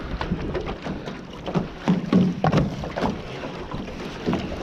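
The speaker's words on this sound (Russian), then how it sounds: "Что-то ветер никак не может успокоиться. Все дует и дует." Gusty wind blowing over a lake during a bout of bad weather while out checking fishing set-lines, heard from a boat: buffeting rumbles of wind against the microphone rise and fall, with water lapping and knocking against the hull.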